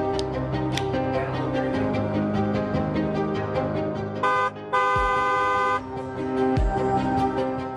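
A car horn honks twice, first a quick toot and then a longer steady blast. Both honks are loud and sit over a continuous music-like background.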